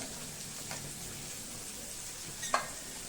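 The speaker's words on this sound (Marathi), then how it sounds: "हे बघा तुम्हाला आवाज येत असेल छान मस्त तडका बसलाय" Sliced onion sizzles in tadka tempering oil for a spicy Maharashtrian zunka, a quiet, even hiss with a sharp utensil click near the end.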